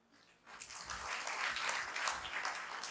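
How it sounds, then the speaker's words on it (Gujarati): An audience in a seminar hall breaks into applause for a participant. The clapping rises quickly after a quiet start and stays as a dense, steady wash at a moderate distance for a few seconds. "જોરદાર તાળી ભાઈ માટે."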